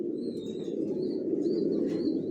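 Racing pigeons in a loft give soft, low coos that run continuously over a steady murmur of background noise, with a few faint high chirps above, and no talking.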